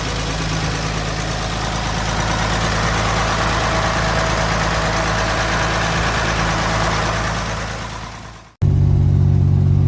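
A 1951 Chevy engine runs with a new six-blade fan, a loud steady idle with a constant low hum for most of the stretch, cutting out abruptly before resuming just as loud.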